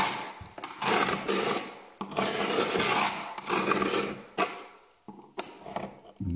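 A screwdriver pressed flat and rubbed into the corner of a painted molding, giving loud repeated scraping, rasping strokes in close bursts with short pauses between them.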